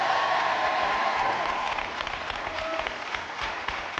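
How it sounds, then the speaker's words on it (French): A studio audience applauds through a French television game show, steady dense clapping that tapers slightly toward the end, with no voices over it. "Un tonnerre d'applaudissements pour tous les acteurs du jeu de la vérité"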